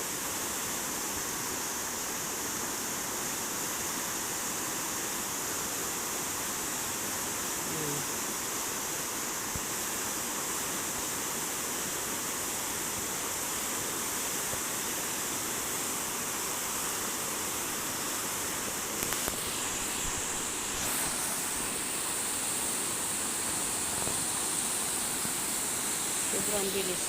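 A fast-flowing river current rushes with a dense, steady roar of broadband water noise throughout, loud and unbroken, with a brief louder splash-like burst late on.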